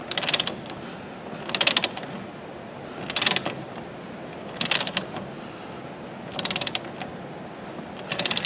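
A breaker bar turns a lug nut to draw a new wheel stud into a hub, making bursts of ratcheting clicks every second or so, close and loud, separated by short pauses.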